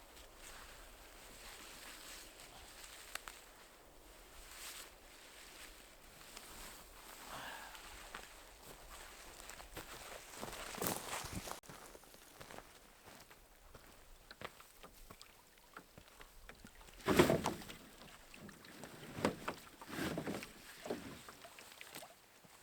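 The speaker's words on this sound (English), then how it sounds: "The wind's whipping through here too." Wind gusting across an exposed island in Canada, a low rushing roar that swells and fades, with strong gusts and buffeting bursts near the microphone over a long stretch.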